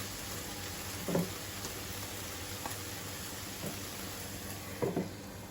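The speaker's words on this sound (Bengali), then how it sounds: "আমি আরেকবার নাড়াচাড়া দিয়ে দিচ্ছি" Young taki fish fry in a pan give off a steady soft sizzling hiss, broken by a couple of brief scraping knocks as a spoon stirs them.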